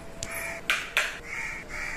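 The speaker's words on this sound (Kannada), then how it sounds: "ಕಾಗೆ ನೋಡಿ ತುಂಬಾ ಜೋರಾಗಿ ಕೂಗ್ತಾ ಇದೆ" A crow gives a run of loud, rasping caws, several short sharp calls and a couple of longer ones, fairly near, with no talking.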